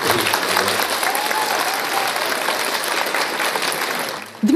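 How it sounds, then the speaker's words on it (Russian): Students at Samara University fill a hall with sustained, loud applause that runs steadily for several seconds before dipping near the end. "студенты Самарского университета имени Королева приветствуют аплодисментами"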